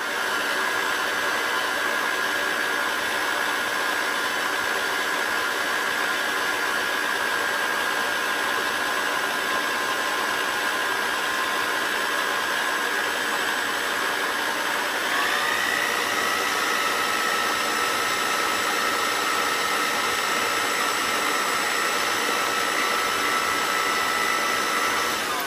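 An electric hand mixer whirs steadily as it beats Oreo buttercream frosting with crushed Oreo cookies, a continuous motor drone with a faint pitch shift midway, alone with no talk.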